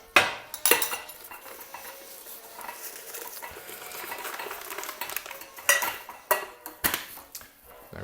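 Sugar spooned into butter in a frying pan, with metal cutlery clinks and scrapes against the pan and a soft background hiss, several sharper clatters near the end.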